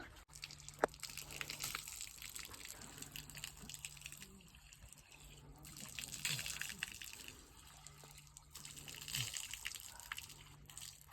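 Water runs from a row of four taps at an open washing area with a stone platform, a steady splashing gush with drips that swells and eases under a low hum.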